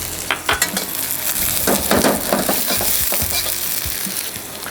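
Onions and ginger fry in a very hot pan for beef broccoli, a loud continuous sizzle broken by scraping stirs and clinks of a utensil against the pan, with no talking.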